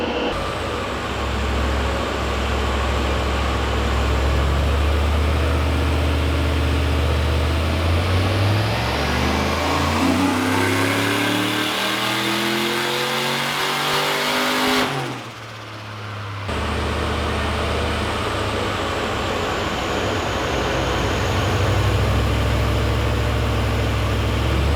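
Turbocharged V8 in a Holden Commodore VE SS revs hard on a dyno, climbing steadily for about ten seconds before a sudden cut, then settling back to a loud, rumbling idle.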